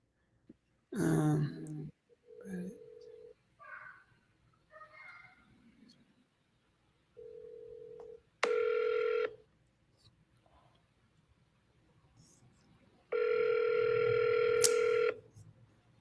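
A phone call rings out on the line: a few short tones and blips, then long, steady ringback tones with silent gaps between them, clear and close, with no talking over them.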